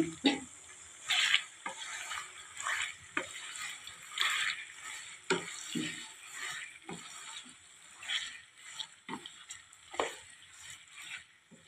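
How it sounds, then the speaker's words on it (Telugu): Marinated chicken for gongura pachadi frying in oil, a moderate sizzle broken by repeated scraping stirs with a spoon in the pan, fairly close with no talk. "సో ఈ ఆయిల్లో వేసేసుకున్నామండి మ్యారినేట్ చేసుకున్న చికెన్."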